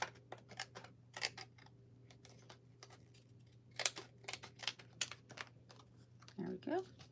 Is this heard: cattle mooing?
no